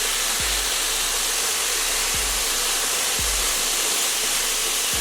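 A Cweixi air styler blows a steady, loud broadband rush of air while curling hair, with a few soft low thumps from handling scattered through.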